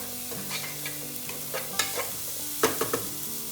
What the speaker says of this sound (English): And then I stirred it all up again.